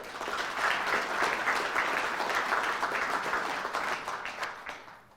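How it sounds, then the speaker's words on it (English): Sustained applause from an audience honouring award nominees at a sports council awards and recognition ceremony, a steady dense wash of many hands clapping that holds for several seconds before tapering slightly at the end. "let's just give them one more round of applause"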